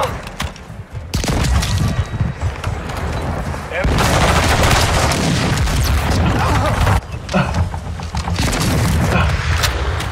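M4 rifle fire in Call of Duty Modern Warfare II, loud dense automatic bursts and booming impacts filling most of the span, with brief gaps and a player talking over it.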